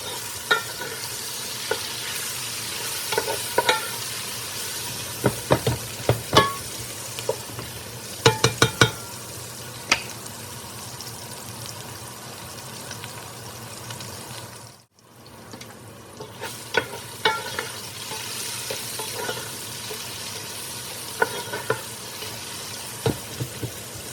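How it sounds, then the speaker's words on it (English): Onions sauté and peppers get stirred in a Dutch oven over a charcoal campfire outdoors. A constant sizzle runs under repeated metallic scrapes and clanks, with a brief near-silent break midway. "So now the onion's ready to saute. Time to stir the peppers."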